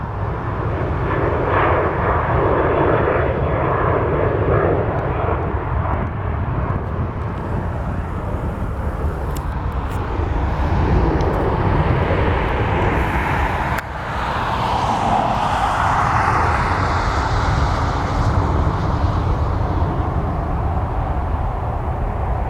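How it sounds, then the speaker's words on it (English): Alaska Airlines Boeing 737-900 departing from Portland, a loud continuous jet engine roar with a broad rushing rumble that holds steady and shifts slightly in tone as it passes, nobody talking. "At the same time, we have a departure for Alaska 737-900."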